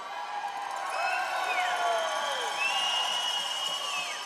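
A large home crowd cheers steadily and roars throughout, with whistles rising above the broad, sustained noise of a packed stadium.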